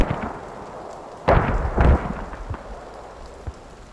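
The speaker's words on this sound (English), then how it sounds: "Gonna send frag RPG." A frag RPG explosion in a 50-versus-50 infantry combat video game: a sudden deep blast followed by a second rumbling boom, then fading distant thuds over low background noise.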